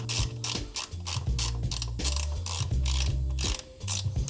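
An articulating ratcheting spanner clicks steadily through repeated strokes on an Audi S3 under repair. The rapid pawl clicking is close and loud, broken by brief pauses between swings, with no talking.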